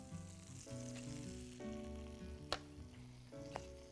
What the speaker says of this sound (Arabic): هنا بقى أقوم جايبة زبدة فرن هنا، نلم بيها كل الطعم اللي في الطاسة ده